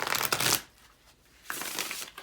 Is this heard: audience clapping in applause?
no